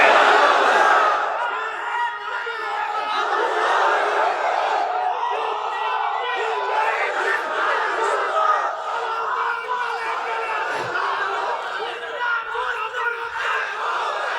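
A crowd of men roars back in unison at a sermon, a sustained mass shout of voices filling the space, loud and steady across the whole span with no single voice standing out.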